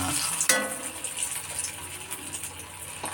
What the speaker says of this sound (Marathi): बघा असे तळून घ्यायची लाल करून अशी थोडी गुलाबी रंगावर आली